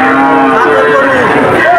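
A purebred calf at a Satmail cattle market gives one long, loud, close moo that wavers in pitch and fills the whole moment, with no talk over it.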